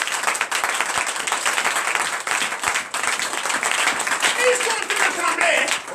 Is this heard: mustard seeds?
no